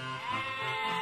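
A mother goat lets out a single drawn-out, wavering bleat, close and fairly loud, with no other sounds around it.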